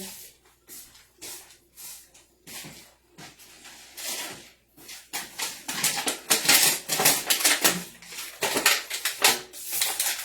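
A cooking pan is picked up and handled in a kitchen, with rapid clattering metal knocks and scraping taps growing busier and louder toward the end, close by with no talk.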